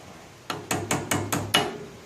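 A hammer strikes six sharp, evenly spaced taps in quick succession on a metal part of a 1957 Wheel Horse RJ35 rear hub, close by and fairly loud against a quiet background.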